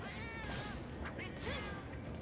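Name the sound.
cat meowing in Monster Hunter video game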